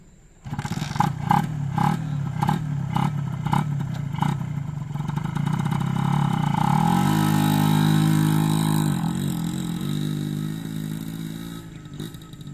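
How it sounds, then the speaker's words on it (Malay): A classic motorcycle engine being started and revved: a series of sharp throttle blips at first, then a long sustained rev that swells loud and close before dropping back toward idle, with no talking. "Mesin ni nak kena jerit sikit."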